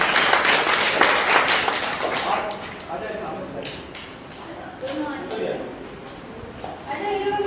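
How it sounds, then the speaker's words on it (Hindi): A loud burst of clapping from participants at a women domestic workers' union election meeting opens the clip, then thins into scattered claps with voices talking underneath. "जोरदार ताली।"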